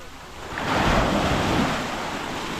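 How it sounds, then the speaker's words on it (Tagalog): Strong ocean surf at Crystal Cove beach in Boracay rolls in as a broad, roaring wash that swells and slowly recedes, with wind buffeting the microphone and no voices. "Dito malakas. Para siyang Pangasinan naman yung alon ng tubig."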